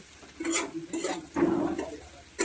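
Sago being stirred as it fries in a pan, heard as a few separate scraping strokes with a faint sizzle in between, close and fairly quiet.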